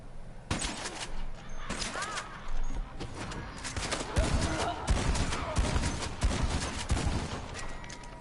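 A string of sharp gunshots in the Western online game Red Dead Online, near and loud, cracking out repeatedly at irregular intervals over several seconds amid ambient game noise.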